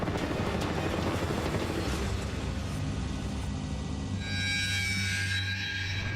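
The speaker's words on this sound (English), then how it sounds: "That is a military helicopter. In fact, it's a Black Hawk." A Black Hawk military helicopter flying nearby, with loud continuous rotor rumble and thumping, joined near the end by a rising high whine.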